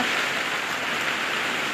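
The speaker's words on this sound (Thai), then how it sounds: "เสียงฝนได้ยินไหมคะ" Steady rain falling on an evening in Denmark, a dense, even hiss that holds constant and fills the whole stretch with no voices over it.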